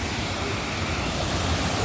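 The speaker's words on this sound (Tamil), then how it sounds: "மெயின் அருவியில் ஒரு பகுதியில் விழுவது போல் நீர் விழுகிறது." Water falling at a waterfall in Courtallam, a steady, loud, unbroken rush close by with no talking.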